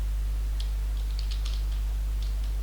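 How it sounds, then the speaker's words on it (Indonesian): Faint, scattered keystrokes on a computer keyboard as a command is typed during FTP server setup, a handful of light taps over a steady low electrical hum. "Jadi kita ketikkan perintah"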